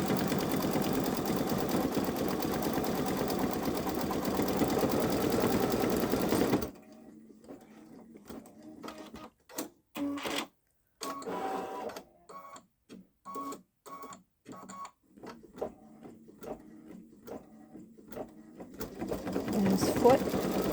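Babylock Solaris embroidery machine stitching the beak of a hummingbird design, a steady loud mechanical whir that stops partway, followed by stop-start bursts of stitching and a resumed steady run at the end.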